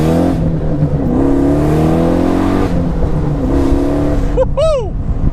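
A 700 hp Pontiac Solstice weighing under 3,000 pounds revs and accelerates on the street. The engine note climbs steadily through the gears, loud and close, and a sharp rising squeal or whoop follows near the end.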